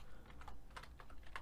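Code being typed on a computer keyboard, with a short run of soft, close key clicks in an irregular rhythm, faint and alone.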